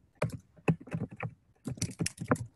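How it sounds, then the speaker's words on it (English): Keys on a computer keyboard being typed in two quick bursts of clicks, close and fairly clear, with a short pause between them and no talking over it. "I'm going to type in"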